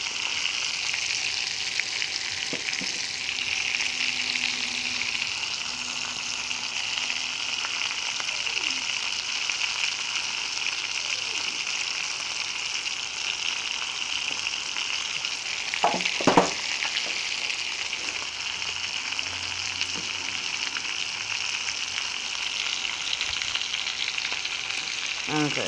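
Salisbury steak patties fry in hot grease with a steady, even sizzle that holds for the whole stretch, broken only by a couple of brief louder pops and crackles partway through.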